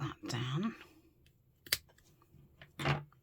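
Scissors snip crochet trim for a handmade journal's pockets, giving a few quiet, sharp close cuts spaced out over about three seconds, with faint speech-like sounds at the start.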